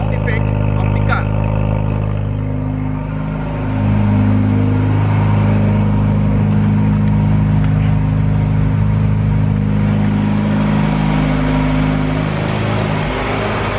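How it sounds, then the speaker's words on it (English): A 2019 Jaguar F-Type R Dynamic with its 5.0 engine hums steadily and loudly up close. The exhaust tone swells slightly after a brief dip and keeps a deep, even rumble throughout. "Just listen the sound effect of the car."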